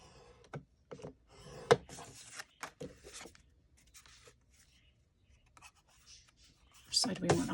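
A bone folder or stylus scores paper at half-inch intervals while a journal folio is made, giving short scratchy strokes in uneven bursts with quiet gaps and a louder rub at the end.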